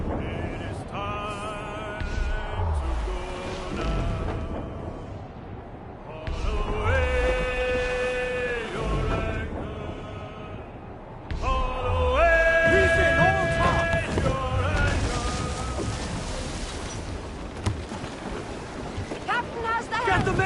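A sailing ship moves under sail at sea in Assassin's Creed IV: Black Flag, with rushing waves, wind and creaking hull. Crew voices shout orders and sing over the continuous ocean wash.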